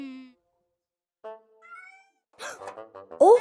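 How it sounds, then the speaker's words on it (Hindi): A kitten in a children's cartoon story gives several short, high meows: one at the start, a few thin cries in the middle, and a louder pair near the end, each alone with no talk. "वो बिल्ली का बच्चा कहाँ चला गया?"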